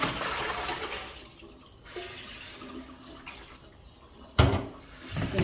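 Washed rosella calyces poured into a colander with water, a steady wet rushing and splashing that tails off, then a sharp clattering burst near the end followed by more running water.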